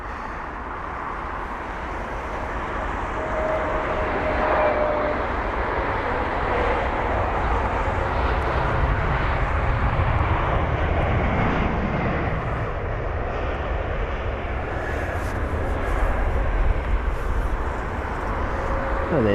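A British Airways Airbus A320neo lands at London Heathrow with a sustained, moderately loud jet roar that swells gently and holds steady for the full stretch.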